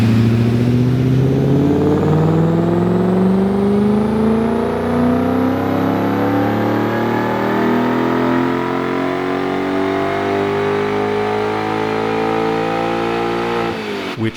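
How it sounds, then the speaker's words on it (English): Car fitted with a Tweetler 90mm throttle body making a third gear dyno pull, engine roaring loud and steady as its pitch climbs smoothly for about fourteen seconds before cutting off abruptly at the end. "first we do back-to-back third gear pulls to confirm the car is in good health and the dyno is reading output consistently"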